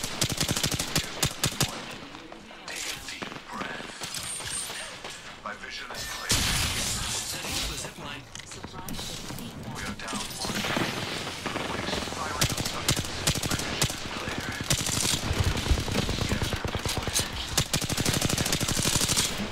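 Gunfire in the video game Apex Legends: dense, rapid automatic bursts and shots that run almost continuously and loudly for the whole stretch, with a brief lull early on.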